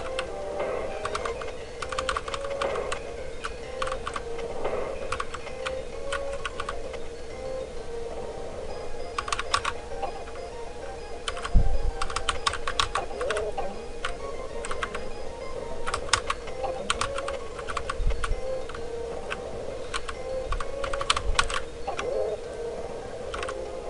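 Computer keyboard clacking steadily during a Donkey Kong Country 2 session, quick uneven bursts of close key taps over a soft background hum.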